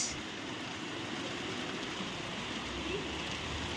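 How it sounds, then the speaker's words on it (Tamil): Heavy rain pours down steadily in a sudden downpour, a dense continuous hiss of falling water that stays even and fairly loud throughout with no breaks. "மழை நல்லா ஊற்ற ஆரம்பிச்சிருச்சு"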